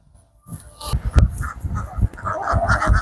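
Ducks on a duck farm in Bangladesh quack and honk in a close, lively chorus of overlapping calls that grows busier after a quiet start.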